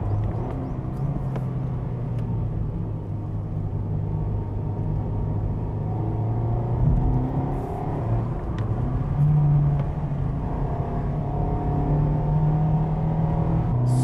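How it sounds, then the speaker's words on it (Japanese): A Mazda NC roadster climbs a hill with its electronic stability control switched off, its engine droning in a steady, close, continuous hum with mild rises in revs and no talking. "もう一度なしで、なしっていうかオフでね、電子制御オフで登っていきます。"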